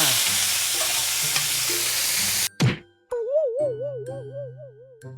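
Beef sizzling loudly as it is stir-fried in a hot pan, then a clatter of utensils and a quieter sizzle continuing with stirring scrapes and some clinks.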